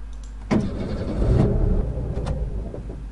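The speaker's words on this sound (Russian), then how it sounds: "Машина не заводится." Car engine in the video game Scratches failing to start: a few separate cranking bursts that never catch, with a low hum in between.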